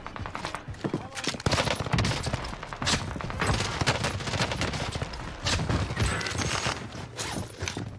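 Rapid bursts of fire from a short-barrel Welgun submachine gun in a video game, clustered volleys with brief gaps between them, loud and close, with faint footsteps in places.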